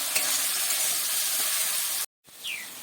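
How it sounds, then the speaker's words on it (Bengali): Salted, turmeric-coated potatoes sizzle loudly and steadily in a pan of oil. The sound breaks off for a moment, then returns more quietly, with no talking throughout. "হলুদ দিয়ে ভালো করে ভেজে নেব।"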